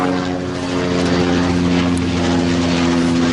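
A helicopter flies by overhead, its steady thrumming engine and rotor drone loud and constant throughout, with no talking.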